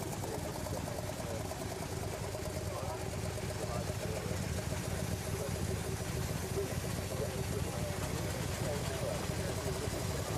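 Veteran de Dion Bouton cars on the London to Brighton run idle and chug with a continuous rattling engine note, steady and fairly close, under a commentator's voice.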